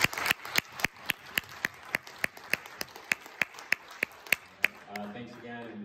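Steady, evenly spaced claps from a small audience after a jazz ensemble's concert at a community college, sharp and close in a regular rhythm, ending in a murmur of crowd noise.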